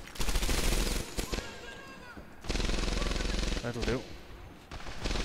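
Rapid machine-gun fire in Medal of Honor Airborne, with sustained loud bursts of automatic shots broken by short pauses, and a voice speaking briefly over the shooting.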